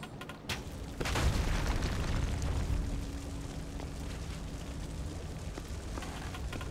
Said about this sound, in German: Guck mal, hier oben haben wir so ein explodierendes Fass.